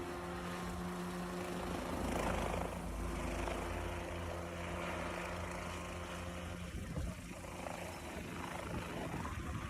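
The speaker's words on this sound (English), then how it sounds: "A helicopter pilot saw this person sweeping leaves and decided to help out." A helicopter hovers low to blow leaves off the ground, its steady rotor roar and engine drone filling the whole stretch at constant strength with no talk.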